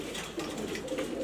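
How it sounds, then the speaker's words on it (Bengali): Grizzle pigeons, several hens among them, coo in a loft, a brief close stretch of soft overlapping throaty calls with no talking. "এই যে 4 পিস কবুতর দেখতেই পারতেছেন।"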